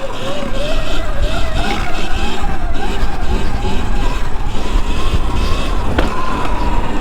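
Surron X electric dirt bike held up in a wheelie, its motor whine rising and falling steadily over loud, continuous wind and road rumble, with a sharp knock near the end.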